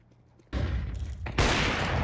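Rapid bursts of gunfire from a tactical shooter video game, starting abruptly after a quiet moment and then swelling into louder, dense automatic fire.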